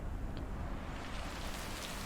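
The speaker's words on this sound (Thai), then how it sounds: "เหมือนที่ฝนจะตกเนาะ" Rain falls steadily outdoors near a lake, a dense, even hiss of drops with no talk, moderately loud throughout.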